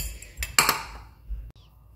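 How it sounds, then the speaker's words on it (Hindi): A metal whisk clinks against a bowl while a salt and black pepper dressing is beaten, a few quiet, sharp taps and scrapes close by, with brief silence between them. "उनको अच्छे से हम मिक्स करके इनकी ड्रेसिंग तैयार कर लेंगे।"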